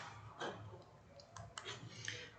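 Mouse clicks on a computer while saving a filled-in online school transport and address form, several sharp, quiet clicks spread out over a soft background hum.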